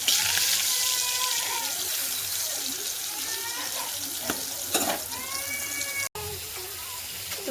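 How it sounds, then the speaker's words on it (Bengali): Brinjal (eggplant) fries in hot oil, giving a loud, continuous sizzle up close, with occasional stirring scrapes and a short dropout near the end. "দেখো বেগুনটা ভাজছে"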